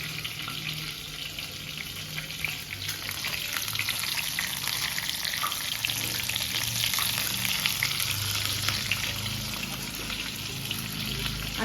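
Food frying in oil in a home kitchen, a dense, even sizzle that runs steadily and fairly loud throughout with faint stirring underneath.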